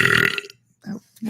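A single deep, wet burp right up close, loud and brief, followed by a pause and two short faint sounds.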